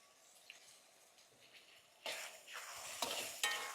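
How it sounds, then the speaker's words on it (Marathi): Chopped tomatoes going into a pan of onions in hot oil, a faint sizzle that swells into a louder hiss and crackle with a few stirring knocks. "आपण चॉप केलेले टमाटर घालून घेऊ"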